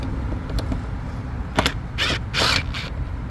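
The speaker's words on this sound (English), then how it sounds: "Take the screws out again." Screws being removed from the air filter housing of a Dodge Challenger, heard as a few short mechanical creaks and clicks at close range, with a couple of brief ratcheting bursts over a low background hum.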